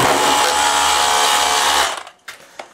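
A cordless combi drill, set up as an impact driver during a toilet replacement, whirs loudly and continuously, then stops abruptly, leaving a few faint clicks and knocks.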